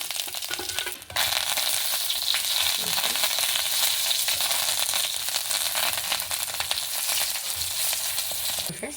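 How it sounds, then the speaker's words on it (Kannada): Black pepper and neem leaves frying in hot coconut oil make a loud, continuous crackling sizzle that breaks off briefly near the start, then runs unbroken to the end. "ತೆಂಗಿನೆಣ್ಣೆ ಹಾಕ್ಕೊಂಡು ನೋಡಿ ಮೆಣಸು ಮತ್ತು ಬೇವನ್ನೆಲ್ಲ ಹಾಕ್ಕೊಂಡೆ"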